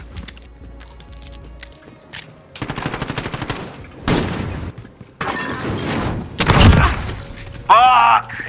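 Pistol shots in Call of Duty Modern Warfare 2019, several sharp single reports and short clusters spread across the clip amid game clatter, with a voice talking between them.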